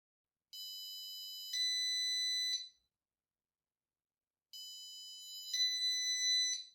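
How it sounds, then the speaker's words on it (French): Two bursts of a shrill, piercing piezo buzzer tone driven by an Arduino, each starting at one pitch then jumping to a louder second, separated by silence. "les buzzers sont très bruyants"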